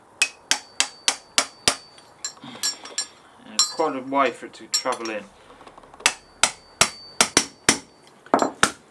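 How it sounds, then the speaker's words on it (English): Sharp metallic hammer strikes seat a ring into a BMW F650GS Dakar motorcycle front fork during a rebuild, a quick series of close, loud blows, pausing while someone talks, then resuming in rapid bursts. "You need to go around, hammer the ring in."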